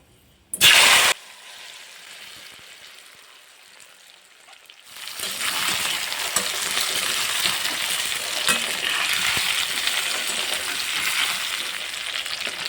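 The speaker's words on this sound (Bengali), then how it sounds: "তেলটা গরম হয়ে গেছে এখন দিয়ে দেবো একটু হিং এবার দিয়ে দেবো আমলকিগুলো" Indian gooseberries dropped into hot mustard oil with asafoetida, starting with a short clatter and a brief sizzle, then after a near-silent pause a loud, steady frying hiss that continues to the end.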